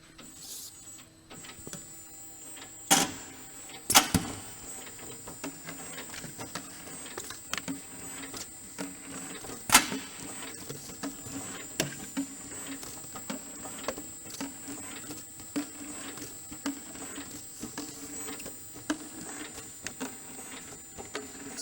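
Mayer Pot Jet 2 pot destacker running, a steady mechanical whir with a faint high whine and repeated clicks and clacks as plastic plant pots drop off the stack, several sharper knocks standing out, no talk.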